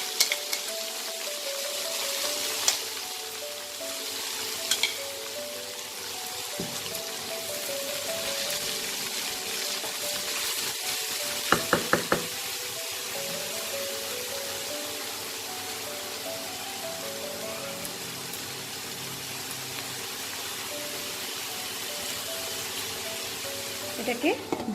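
Chopped spinach frying in a covered pan with ginger, for Bengali-style palong saag bhaja, gives a steady broadband sizzle that runs throughout with a few sharp clicks and clatters. It sounds close and moderately loud, with no one speaking over it.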